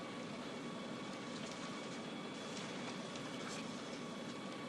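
A passenger night train runs on rails, a steady dense rumble and hiss of wheels heard from inside, continuous with no talk.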